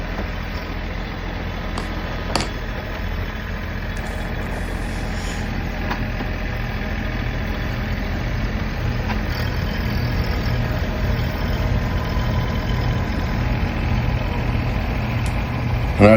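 An old tractor engine idles steadily on a cold winter morning before snow plowing in North Carolina, a continuous low rumble that runs throughout, with a few faint knocks and clanks over it.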